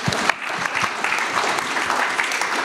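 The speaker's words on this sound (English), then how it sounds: "Round of applause for this hardworking guy." A short burst of lively applause from a small group, steady clapping throughout with no talking.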